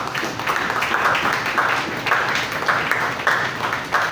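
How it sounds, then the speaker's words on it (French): A church congregation claps together in a sustained, dense burst of applause, steady and fairly loud for several seconds, with no clear voices above it. "Applaudissez pour le Seigneur."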